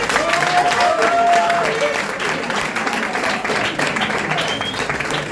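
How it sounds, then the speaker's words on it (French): An audience at a live stage event in Pointe-Noire breaks into steady applause and crowd cheering that holds throughout, with some voices and whistles mixed into the clapping. "Allez, on acclame pour lui."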